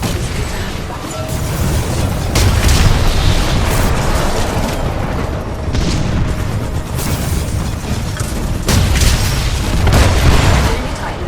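A giant mech Titan explodes in the first-person shooter Titanfall 2, Frontier Defense mode. Repeated heavy booms and bursts rumble continuously through dense battle noise.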